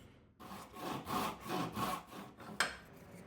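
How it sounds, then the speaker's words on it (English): A handsaw cuts through walnut wood in about five rhythmic back-and-forth strokes, close and fairly quiet, ending with a small knock. "I think I'm just going to cut it by hand"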